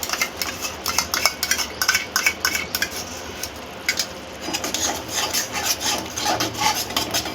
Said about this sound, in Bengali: সসটা দিয়ে আমি আবার কষিয়ে নেব।